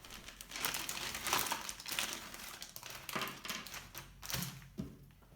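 Plastic parts bag from an RC truck kit being rummaged through, giving close, continuous crinkling and rustling with small taps and clicks of parts shifting inside, no talking.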